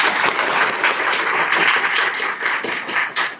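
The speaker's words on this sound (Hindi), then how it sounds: "क्या बात है, जो जोरदार तालियां।" Loud, dense audience applause at a coaching centre event honouring a Bihar class 10 topper, steady clapping throughout with no pauses.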